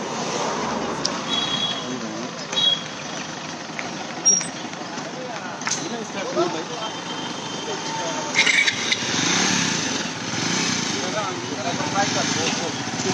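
A motorcycle engine runs steadily through an election campaign ride in India, a continuous rumble with a few brief louder surges, heard under nearby talking and crowd noise.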